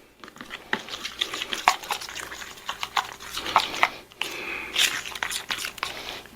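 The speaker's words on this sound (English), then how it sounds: "So we stir it together real well." A dipping sauce being stirred together by hand, an irregular run of wet scraping and clicking strokes against the bowl, close and moderately loud, with faint voice in places.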